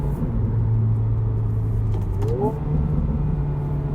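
A CTC Performance Hyundai i20N tuned to around 250–260 horsepower drives on a road, its engine droning steadily close by before a quick rev-matched blip and a rise in pitch.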